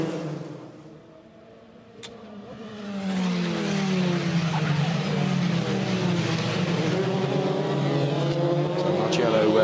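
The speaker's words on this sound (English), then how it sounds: "Leading as the pack come around on this, the opening lap of this Formula 3 race here." Formula 3 race cars in a European Championship round coming around on the opening lap, their engines swelling from a quiet start into a loud sustained, layered roar as the pack passes, with a commentator talking over it.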